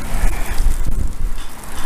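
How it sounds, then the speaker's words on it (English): Strong wind roars and buffets steadily across an open, dusty stretch in New Mexico, with constant low rumbling gusts and microphone wind noise filling the whole stretch. "It is windy out here, it really is."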